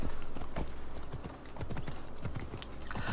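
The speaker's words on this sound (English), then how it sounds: "Just cruise around the island on your horse." Horse hooves clip-clop in a quick, steady rhythm while riding in Assassin's Creed Odyssey, close and continuous over a low ambient bed.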